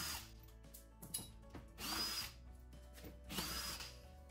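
Power tool loosening hex screws under the rear bumper of a BMW E92, heard as two close, loud whirring bursts with clicks and handling noise between them, no talking.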